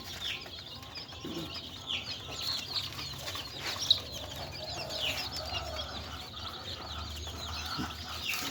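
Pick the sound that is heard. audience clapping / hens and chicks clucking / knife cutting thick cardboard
hens and chicks clucking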